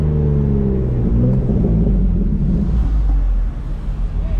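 A manual BMW M3 cruises through a neighborhood at night, its engine giving a loud, steady, deep rumble with intake noise heard from inside the car and some wind buffeting.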